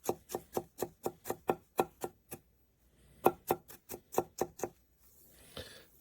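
A Damascus-layered Japanese chef knife with an AUS-10 core chops food on a board in quick rhythmic bursts of crisp knocks, a run of about ten, a pause, then another run, close and clear.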